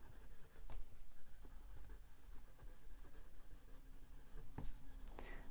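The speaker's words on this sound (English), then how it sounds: "Right, I've written it down." Pen writing on paper at a desk, a few faint scratchy strokes and taps spread across a quiet room background with no talking.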